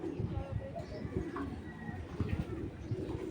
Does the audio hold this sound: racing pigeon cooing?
yes